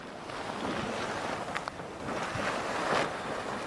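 A geyser at the El Tatio field in Chile gurgles and pumps out water and steam, a continuous broad rushing hiss like wind or surf, with a few short bursts rising out of it.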